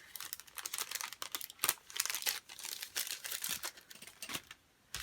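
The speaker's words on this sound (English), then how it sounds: "Sorry, but you'll hear a little crinkling." A plastic sticker package being handled and crinkled close up, with irregular soft crackling bursts and rustles at low volume, no speech.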